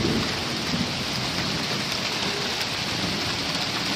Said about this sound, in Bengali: দেখুন কলা পাতায় যখন বৃষ্টিটা পড়ে কাপড় টুপুর শব্দ হয়, জাস্ট ফিল দ্য সাউন্ড।